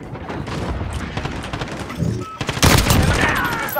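Rapid bursts of gunfire and explosions fill a Modern Warfare (2019) match, loud and continuous, with a brief voice in the mix.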